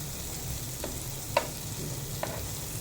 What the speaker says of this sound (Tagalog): Palambutin na lang natin siya sa mantika.